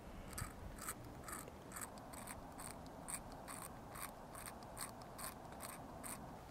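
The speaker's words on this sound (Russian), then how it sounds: "спеша, начинаем вращать колесико" A gasless lighter's flint wheel is turned again and again to scrape off cerium dust, making quiet, close, evenly spaced ratcheting clicks about twice a second with no talk.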